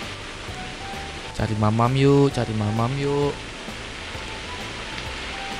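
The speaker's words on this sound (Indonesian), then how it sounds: "Hujan, ceritanya hujan di luar." Steady rain falls outside in the Roblox game RoCitizens, a constant soft hiss running through the whole stretch, with a person talking briefly over it in the middle.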